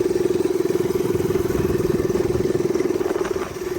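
A mini bike engine idles a little high with a steady, fast, even putter, loud and close throughout, dipping slightly at the very end.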